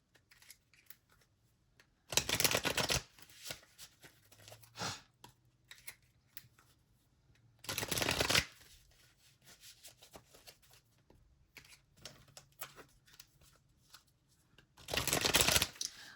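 A brand-new deck of playing cards fresh out of the box being shuffled, with three loud riffle bursts, each about a second long, separated by quieter handling and card rustling, close up and without talk.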